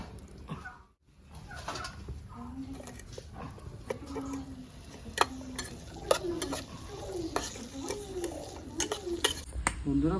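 Cashews and raisins fry in ghee in a pan, with a gentle sizzle and repeated scraping stirs; birds chirp and coo in the background of a village kitchen.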